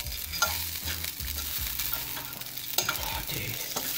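Onions fry on a hot cooking surface with a loud, continuous sizzle while a metal utensil scrapes and pushes them around in quick, repeated strokes; close and busy, with no talking.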